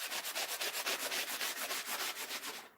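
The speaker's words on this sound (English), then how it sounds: "that was just a fairly light sanding with a fairly coarse piece" Close, rhythmic scraping of coarse sandpaper on wood, fast back-and-forth strokes about six per second, loud and unbroken, with no voices.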